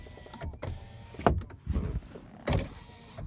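The electric sunroof of a 2005 Lexus RX400h petrol hybrid tilts and slides, giving a few short motor whirs and soft mechanical clunks in separate bursts, close and fairly quiet inside the cabin.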